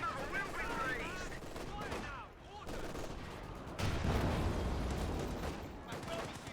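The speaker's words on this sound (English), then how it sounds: "We've got Cromwell under fire from the Pack 40 here." A Pak 40 anti-tank gun fires on a Cromwell tank in Company of Heroes 2, amid steady machine-gun fire and booms, with a voice speaking over the combat.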